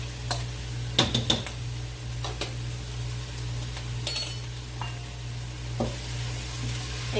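Ginger and garlic sweat gently in a pot for a lentil curry, a low quiet sizzle under a steady hum, broken by a few sharp clinks and scrapes of a utensil against the pot.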